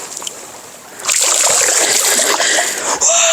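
A steelhead trout released into a Lake Erie stream during a snowstorm splashes loudly back into the water, a burst of close splashing and churning that runs to the end with no talk over it.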